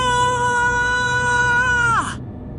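A scream heard through a phone in a Hindi horror story, a sustained high wailing cry lasting about two seconds before sliding downward and cutting off abruptly.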